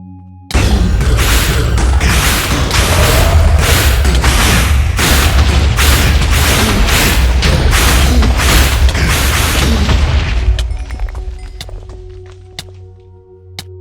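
Wither boss exploding in Minecraft, a long rolling boom made of repeated heavy blasts for about ten seconds, then dying away into a low rumble.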